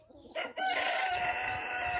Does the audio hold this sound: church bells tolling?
no